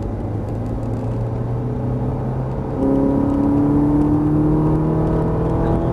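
A Ferrari GT3 race car on a circuit accelerates gradually out of a corner, its engine droning steadily and rising in pitch as it builds speed, loud and continuous with no talk over it.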